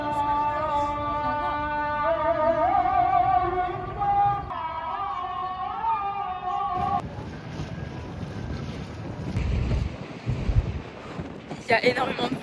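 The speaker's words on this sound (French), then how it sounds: "Il y a énormément de vent." Strong outdoor wind buffets the microphone with a rough, rumbling roar that swells in gusts. Music with singing plays at first, then fades out while the wind keeps blowing, loud and close.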